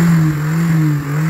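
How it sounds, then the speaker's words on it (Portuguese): Formula 1 car engines roar at the Suzuka circuit in Japan before the start of the Japanese Grand Prix, a loud, steady, droning hum with slight pitch shifts, with no voices. "Aumenta o ronco dos motores!"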